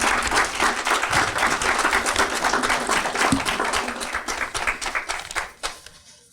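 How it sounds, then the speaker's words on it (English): An audience at the 2017 Educator of the Year Awards applauds a keynote speaker, sustained loud clapping from a large crowd that tapers off over the last second. "Please give him a round of applause"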